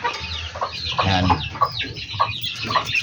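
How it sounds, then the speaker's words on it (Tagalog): Newly acquired chickens, a Gilmore rooster and an Abuhin hen, cluck repeatedly inside a coop, with close, uneven calls over a brief spoken word. "Isang manok natin galing sa aking kapatid sa Calauan, Laguna."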